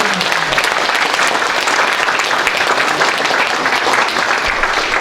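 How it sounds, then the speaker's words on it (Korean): Loud, steady applause from an audience at a symposium, filling the room without a break for about five seconds while staff members stand to be thanked. "박수 한번 크게 성원해 주시죠."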